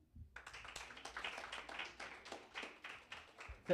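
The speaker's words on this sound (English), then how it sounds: "Let's give him another round of applause, please." Audience applause at the Miss Namibia 2024 host announcement, a steady patter of many hands clapping at moderate distance, fairly faint and lasting several seconds before fading.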